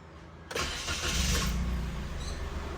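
A car engine carrying a P0443 fault code cranks and fires up abruptly, then settles into a steady, loud idle close by, with no one speaking.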